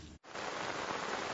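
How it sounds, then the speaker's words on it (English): Torrential rain pours down in the Sunshine Coast hinterland, a dense, continuous roaring hiss that starts abruptly after a split-second gap and stays loud and steady throughout. "Torrential rain has been bucketing down in the hinterland"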